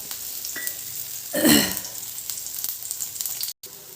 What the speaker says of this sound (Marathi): तेल टाकून मस्त दोन्ही बाजूने खरपूस भाजून घ्यायचे